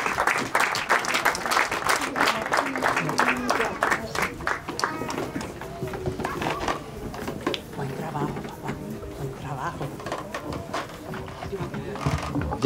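Crowd applause at a quinceañera party, loud and sustained, with people talking and cheering over it throughout.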